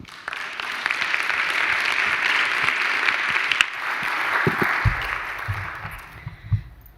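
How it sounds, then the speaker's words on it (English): An audience at an academic career development workshop applauds as a speaker is introduced, a full steady round of many hands clapping that fades out, with a few handling knocks and thumps near the end. "An applause for Maria Eugenia González"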